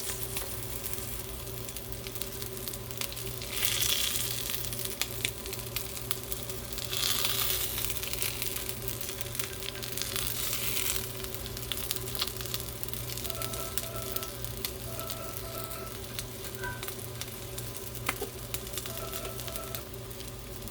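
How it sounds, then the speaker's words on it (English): Seafood burger patty of jumbo crab meat, salmon fillet and shrimp searing in a hot oiled pan, a steady close sizzle with faint crackles running throughout, no voices. "I'm gonna let that sear for about 35 to 40 seconds"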